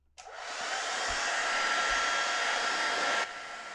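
A hair dryer blows steadily and close over a watercolour painting, switching on with a rising whoosh and running for about three seconds before cutting off.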